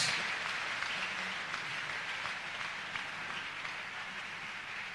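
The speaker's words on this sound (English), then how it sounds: "Be seated and clap your hands." A church congregation at an Easter vigil service claps hands together, producing a dense, continuous patter of many palms, like heavy rain, that stays steady and fairly loud for the whole stretch.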